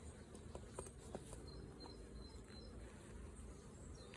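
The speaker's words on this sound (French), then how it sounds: "Il y a des abeilles." Honeybees buzz faintly around an open Langstroth hive, a soft, steady hum with occasional light clicks and taps from handling the frames. No one speaks.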